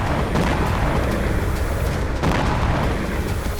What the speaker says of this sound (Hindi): रूस के लिपेत्स्क में भी रात भर धमाके होते रहे।